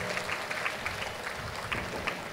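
A congregation at a New Year 2023 midnight mass at Our Lady of Lourdes Shrine in Perambur claps together in steady, sustained applause that fills the whole stretch evenly and fairly loudly, with no speech over it.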